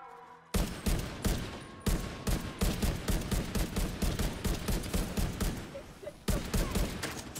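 Rapid bursts of automatic gunfire from The Division 2 rattle in loud, close volleys with brief gaps between them, and a voice speaks faintly underneath.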